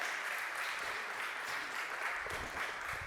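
Audience applause at a startup conference fire-side chat, a steady dense wash of clapping from a crowd that holds evenly throughout without talk on top.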